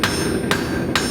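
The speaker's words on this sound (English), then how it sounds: "You want to try to keep hammering in the same spot" Three sharp, evenly spaced hammer blows ring out on hot metal at close range as a blacksmith forges a nail, with a steady hum filling the gaps between strikes.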